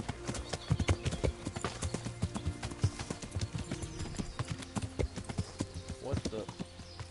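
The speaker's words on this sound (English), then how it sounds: "Let's ride our horse out." A horse's hooves clip-clop at a steady trotting rhythm while riding in Kingdom Come: Deliverance, loud and close, with a brief whinny near the end and someone talking over it.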